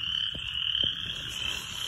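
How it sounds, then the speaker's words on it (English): Frog croaking in Florida, a steady high-pitched trill running throughout with a couple of brief low knocks, close and alone without talk. "This is a really cool frog."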